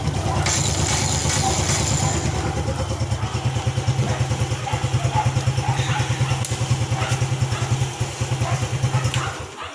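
Motorcycle engine running after its push-start button is pressed, a close, steady idle with a rhythmic pulsing chug and light mechanical clatter, with no voices.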